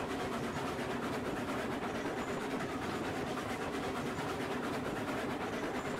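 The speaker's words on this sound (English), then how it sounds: "Keep an eye on the train back there." Steam train running in the Railroads Online video game, a steady, loud rolling rumble with fast, even rhythmic clatter throughout, no speech.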